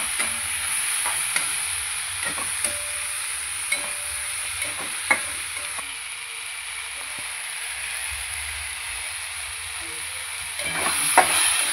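Garlic, ginger and Kashmiri chilies frying in a pan, a steady close sizzle with a high hiss, broken by occasional scraping stirs and light clinks of a spoon against the pan.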